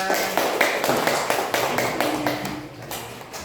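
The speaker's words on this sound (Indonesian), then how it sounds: "Tepuk tangan." A classroom of students claps in applause after a group presentation, a dense, steady patter of many hands close by that fades slightly toward the end.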